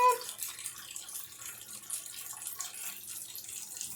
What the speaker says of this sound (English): water noises for ambiance for you